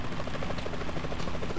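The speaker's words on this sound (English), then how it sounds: "A chopper. Get to the chopper." Helicopter in the video game Metal Gear Solid 2, set on a tanker: a steady, loud rotor chop with rhythmic thumping blades and engine whine filling the whole clip, no talk.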